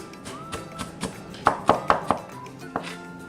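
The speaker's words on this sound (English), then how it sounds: "I'm going to chop this up just a little bit more" Knife chopping half a small onion on a cutting board for pineapple salsa, a run of short crisp taps with a few louder, evenly spaced strikes in the middle, close and clear with no talk.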